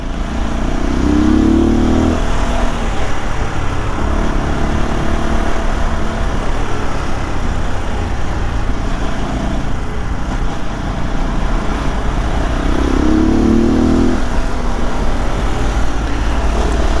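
An RX3 i Evo motorcycle accelerating through slow evening traffic, its engine droning steadily up close with a couple of louder revs rising over wind and road noise.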